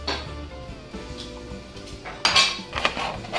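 Utensils clink and scrape against a dish while tapenade made with grated garlic and a drop of oil is mixed, steady close scraping with a burst of louder clattering near the end.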